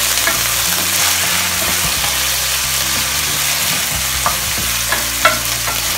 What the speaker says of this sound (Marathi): आणि मी हे थोडे बटाटे घेतले, ते फ्राय करून घेऊया.